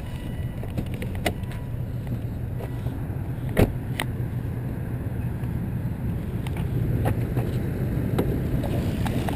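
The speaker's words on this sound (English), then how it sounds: "As you can see, the turbo 5-cylinder runs smooth and quietly" A 2006 Volvo S60 with a turbocharged five-cylinder engine idles steadily and quietly nearby, a low even rumble with a few faint clicks and no talking.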